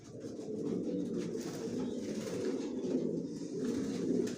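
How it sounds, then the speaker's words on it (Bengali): Johnson racing pigeons coo together inside a loft, a dense, continuous murmur of many overlapping low calls that stays close and steady throughout, with no talking. "আমার লফটে সব একই লাইনের কবুতর, জনসনের কবুতর পালি"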